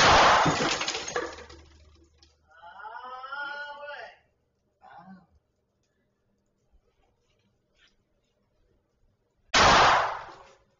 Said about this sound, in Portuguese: Quase é atingido por mais dois tiros disparados.